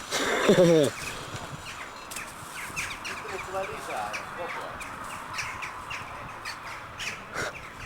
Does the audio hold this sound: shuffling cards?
no